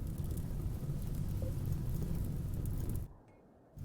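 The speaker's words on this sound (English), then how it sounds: "Could I get rain, please?" Steady rain falling in the RimWorld video game, a constant even hiss that cuts out abruptly near the end before briefly returning.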